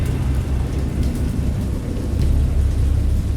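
A video-game thunderstorm in Dagon: steady heavy rain with a low, rumbling thunder bed, loud and continuous with no voices.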